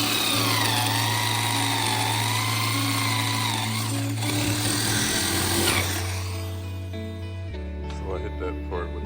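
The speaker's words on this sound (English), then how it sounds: "Probably gonna cut it with the Sawzall." A Sawzall reciprocating saw cuts a 2x4 during a minisplit installation, a loud buzzing motor whine close up that shifts pitch under the load and then stops, leaving a lower hum and some speech.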